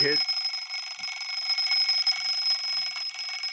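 A French carriage clock's alarm hammer strikes its small bell in a rapid continuous metallic trill, close and bright, lasting several seconds; the clock dates from about 1890-1910.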